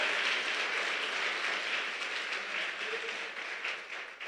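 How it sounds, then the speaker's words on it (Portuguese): A church congregation applauds Jesus: dense, steady clapping from a large crowd that holds evenly for several seconds, heard at moderate distance and tapering slightly at the end. "Dá um aplauso bem forte a Jesus"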